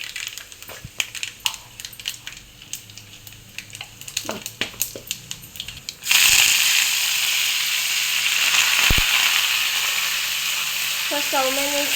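Dried red chilies and garlic tempering in hot oil on a stove, first some scattered clinks and taps, then a loud sizzle that bursts in suddenly and keeps hissing steadily.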